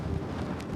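Strong crosswind roars steadily across the microphone while cycling, a dense buffeting rumble with no pause and no voices.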